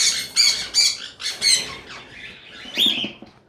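Freshly caught birds at a market give a burst of harsh, high squawks, about six loud calls in a quick uneven series, close by with no talking.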